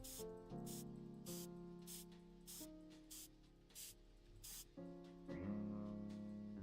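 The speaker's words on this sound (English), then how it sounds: "Thank you, Ajax, spraying white" White spray paint hisses in the Frog Detective 3 video game, a series of short bursts repeating about every half second over sustained musical tones and a low background hum.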